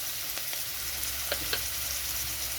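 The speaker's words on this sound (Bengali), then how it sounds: "এমনভাবে ভাজতে হবে যেন সিদ্ধ হয়ে যায়।" Papaya frying in a pan with ginger and salt, a steady close sizzle throughout with a few faint stirring taps.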